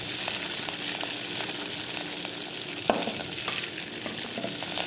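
Chillies frying with onions in a pan on the stove, a continuous close sizzle with occasional spoon scrapes and a sharp clink against the pan partway through.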